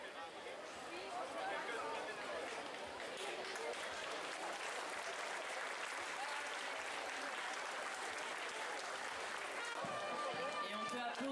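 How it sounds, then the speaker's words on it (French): A festival crowd at the Fête de Lunel applauds riders and their horses, with sustained, steady clapping and crowd murmur filling the whole stretch and faint voices beneath. "on peut applaudir bien fort les cavaliers avec ces superbes chevaux"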